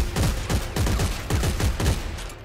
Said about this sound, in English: Look at me shoot, move.